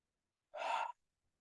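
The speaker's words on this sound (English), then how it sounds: "start breathing in through our nose and out through our mouth 3 separate times" A single deep, airy breath lasting under half a second, close and fairly quiet, with nothing else around it, as in a guided breathing exercise of inhaling through the nose and exhaling through the mouth.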